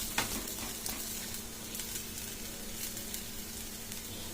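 Oats chilla batter sizzles steadily on a hot pan, a continuous bright crackle with faint occasional clicks, close and even throughout with no voices.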